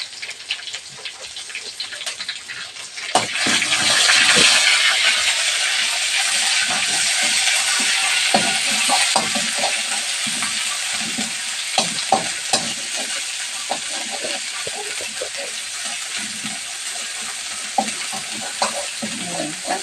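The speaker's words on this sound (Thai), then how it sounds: "ผัดพริกแกงให้หอมกับกระเทียมนะคะ" Curry paste and garlic hit a hot pan and erupt into a loud, steady sizzle after a few seconds, with a spatula clacking and scraping as it stir-fries, close up and without talk.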